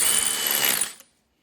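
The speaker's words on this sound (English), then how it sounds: "I got this device here, which kind of just rounds off the edges or bevels the edges." A deburring tool bevels the thread edges of a bolt on a 1997 Ford Mustang Cobra during engine reinstallation, giving a loud, steady grinding rasp that runs for about a second and then cuts off into silence.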